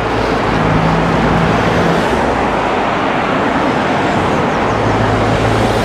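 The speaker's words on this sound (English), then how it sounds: "That guy's there showing off in the Fiesta to try and get around me" A Ford Fiesta speeding past a cyclist on a hilly suburban road, heard as a loud, steady engine and tyre roar that fills the whole stretch, with constant wind buffeting and no voices.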